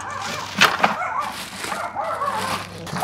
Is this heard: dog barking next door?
yes